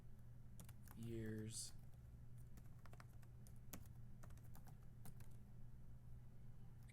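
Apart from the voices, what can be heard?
typing on a computer keyboard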